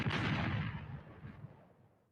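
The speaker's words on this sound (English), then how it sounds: "Drop another bomb to that." A bomb explosion sound effect on a podcast, one booming blast that rolls and decays over about two seconds, heard alone.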